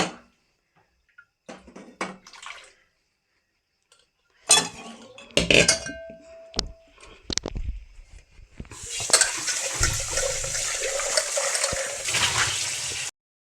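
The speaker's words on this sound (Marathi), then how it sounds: "आपल्या आपल्या हिशेबानं पाणी टाकून घेऊया गरम गरमच पाणी टाकायचं" Hot water poured into a cooking pot while making a drumstick curry: scattered clinks of metal utensils first, then a sustained splashing pour that runs steadily to the end, close and fairly loud.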